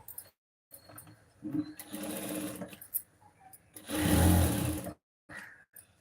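Sewing machine stitching the back piece of a lined blouse, running in several bursts of whirring, rapid stitching of varying length with short quiet gaps between them, close to the microphone.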